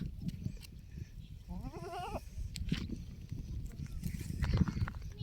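Anglo and Boer crossbred goats on a small goat farm, one bleating clearly in a short wavering call, with quieter animal shuffling, hoof taps and faint background noise around it.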